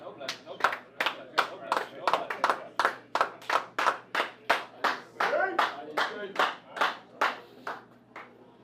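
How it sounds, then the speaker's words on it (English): Two or more people clap together in a room during a league game night, about twenty sharp claps in an irregular, uneven rhythm, close and fairly loud, with faint voices behind. "You have some tandem clapping going on in here"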